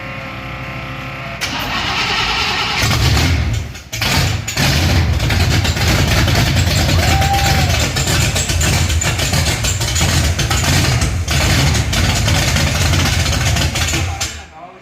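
A snow blower engine cranks and catches during a snowstorm, then settles into a loud, steady, slightly rough idle that holds close to the mic until it cuts off near the end.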